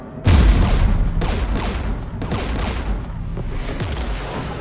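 Geth anti-aircraft guns firing beside a jamming tower in the Mass Effect 3 video game: a sudden loud boom followed by repeated heavy bursts of gunfire with rumbling decay, no talking.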